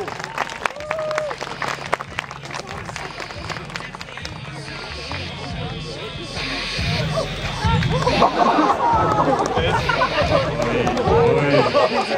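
Audience at a karting event breaks into applause that swells midway and continues as a dense, steady clatter of many hands, with crowd chatter and a voice beneath.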